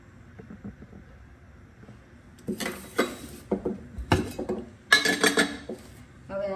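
A cooking pan set down on a gas stove in a home kitchen, metallic clanks and scrapes in a few irregular bursts, fairly close, over a quiet background.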